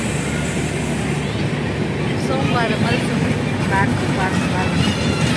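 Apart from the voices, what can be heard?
train arriving at station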